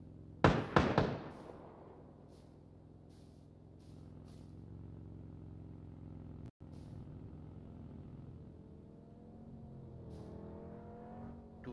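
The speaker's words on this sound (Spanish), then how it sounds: "Nos viene un carro por detrás." A car engine in PUBG approaches from behind, a steady motor drone that gradually rises in pitch and intensity, opening with a few sharp loud thumps before settling into the continuous hum.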